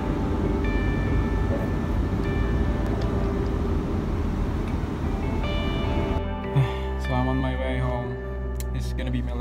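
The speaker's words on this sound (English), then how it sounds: "Train" A train rumbles steadily with a dense low roar, then the noise drops to a quieter interior hum with tonal whines and a brief clunk.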